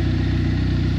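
A modified turbocharged Isuzu Impulse RS engine with changed cams and cam timing, a different turbo and a redone exhaust runs rich, giving a steady, loud, close idling hum for about a second.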